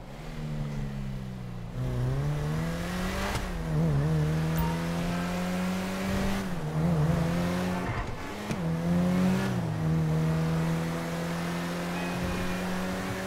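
Nissan Skyline GT-R engine in Grand Theft Auto V, revving up and down in repeated rising and falling sweeps, loud and close with no talk over it.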